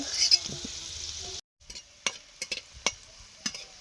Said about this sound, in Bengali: রূপচাঁদ মাছের দাগা পিসগুলো রান্না করছি